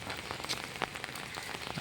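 Steady rain falls in Adirampattinam, a dense even patter of drops hitting surfaces, close and constant for the whole stretch with no voices.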